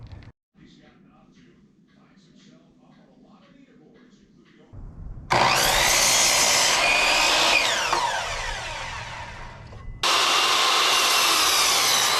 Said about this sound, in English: So I'm going to cut the plates for the side walls.